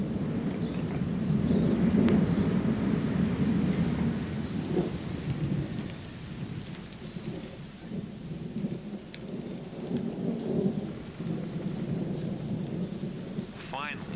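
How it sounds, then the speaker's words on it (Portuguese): Thunder rolls through a Madagascar forest, a deep sustained rumble swelling and fading over about fourteen seconds with faint rain in the background. "As nuvens que se formam vêm acompanhadas de trovões."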